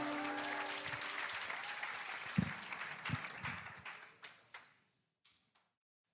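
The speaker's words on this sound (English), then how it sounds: "we clap for him once more" Audience applause at a live citizen forum on transparent leadership and anti-corruption, a dense wash of clapping that thins into scattered claps and fades out near the end, with no talk over it.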